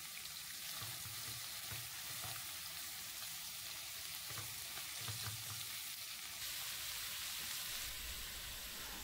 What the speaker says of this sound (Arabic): بنشوح او بنقلي شقف اللحمه وشقف الدهنه بالسمنه او الدهنه المسيحه كم دقيقه